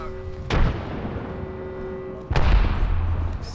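Frag grenade explosions in the Apex Legends video game: two sharp, loud blasts with rumbling decay, the first near the start and the second more than halfway through, with faint game ambience in between.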